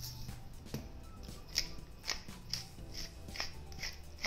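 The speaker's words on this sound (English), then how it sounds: "just whisk it all together using your wire whisk" Wire whisk beating eggs for a corned beef breakfast frittata, a rapid series of light metallic clicks and taps against the bowl, close and fairly quiet with a steady scraping rhythm.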